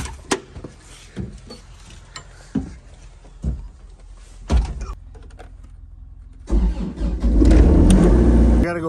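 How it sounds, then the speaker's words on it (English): Excavator engine being started in snowy conditions: several cranking attempts and clicks, a pause, then the engine catches and settles into a loud, steady idle. "Start the excavator and let that warm up for a bit"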